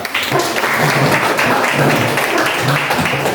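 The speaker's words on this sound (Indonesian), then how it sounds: "berikan tepuk tangan dulu" An audience at a church gathering applauds in a loud, dense, steady burst of clapping that carries on through the whole stretch, with faint voices mixed in.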